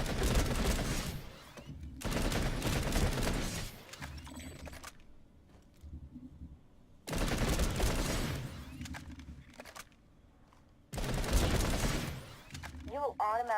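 Bursts of gunfire come from the video game Planetside 2 while shooting targets aiming down sights, with dense automatic volleys in three separate bursts and quieter mechanical gaps between them.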